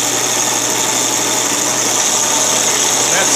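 A working Snapper model engine runs steadily while being shifted through its gears, a loud, continuous mechanical drone with a high whine, close up and without pause.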